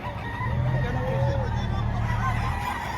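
A nine-month-old Golden Boy gamefowl rooster crows at a busy chicken market in Padre Garcia, Batangas, with people talking nearby throughout.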